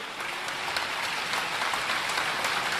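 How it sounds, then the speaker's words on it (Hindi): An audience at a religious gathering claps loudly and continuously, a thick, even roar of applause from a large crowd that carries on without a pause. "तो जोरदार ताली बजा करके"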